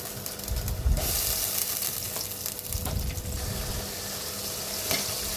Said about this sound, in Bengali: পেঁয়াজটা ভালো করে ভাজবো